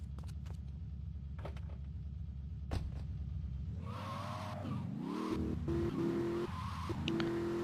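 A car in the GTA III video game drives along with a steady engine hum, then skids with a rising tire squeal partway through, over constant game background noise.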